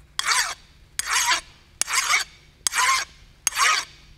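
A hand file scrapes across a hard weld on steel tubing in five even, close strokes, each a harsh rasp about half a second long followed by a short pause.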